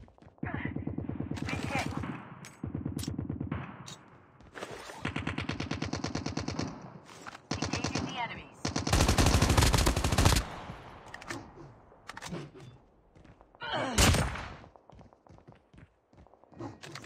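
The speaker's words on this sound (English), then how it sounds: "Assault rifle here." Assault rifle gunfire in the Call of Duty Mobile battle royale game comes in repeated rapid automatic bursts, with sharp single shots and footsteps between them, loud and close.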